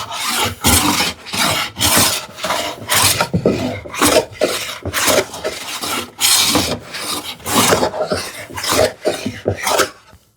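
A hand plane shaves thin onion-skin curls off a wooden board for a shoe tidy, giving a steady run of close, loud rasping strokes in a regular back-and-forth rhythm, about a dozen passes with brief gaps between them.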